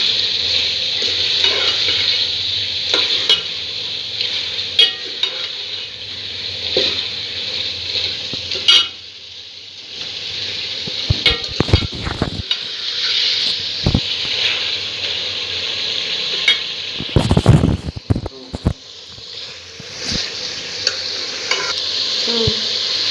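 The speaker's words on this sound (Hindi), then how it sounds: "अब इसको अच्छी तरह से यहाँ पे भून लेना है।" Masala with garam masala sizzling and frying in a pan on the stove, a constant crackling hiss broken by repeated scraping strokes of a spoon stirring, close and clear with no talking.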